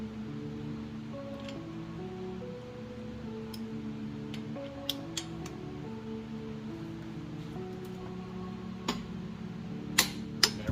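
A torque wrench clicks while tightening flywheel bolts on an H22/H23 engine during clutch installation, a few sharp isolated clicks near the end over a steady droning hum.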